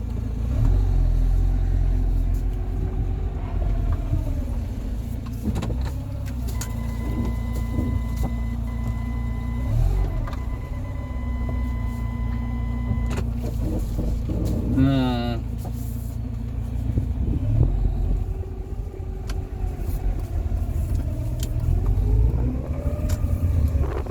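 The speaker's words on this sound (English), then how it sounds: "I think we might have bearing issues with this gearbox." A Rover 45 Impression S3 with a CVT gearbox and suspected worn bearings runs with a steady low drone and thin whining tones on top, broken by a brief rising squeal partway through.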